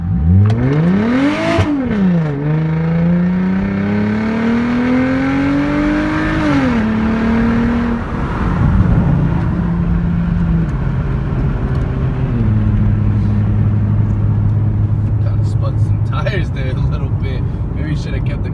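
A Genesis car accelerates hard from inside the cabin with traction control switched off. The engine note climbs loudly through several gear shifts, then eases into a steadier, lower drone while cruising.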